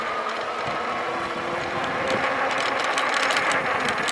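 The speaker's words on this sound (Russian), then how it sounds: "Только звук мотора" A Volteco Cyber electric fat bike motor hums steadily at low volume, a soft even mechanical whir with faint rattling growing slightly toward the end.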